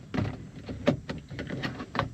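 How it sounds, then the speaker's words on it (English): Door trim being pried off the interior of a 1999–2007 GM Duramax pickup truck: a quiet series of plastic clicks, scrapes and soft thunks, close up and fairly faint. "We're going to pull this little door trim out"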